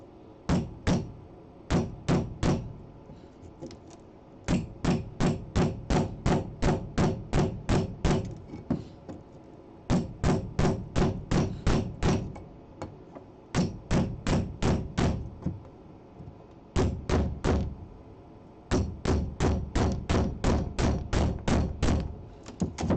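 A steel chisel is hammered into the plywood subfloor of a school bus, producing long runs of sharp, evenly spaced blows in repeated bursts with brief pauses between them.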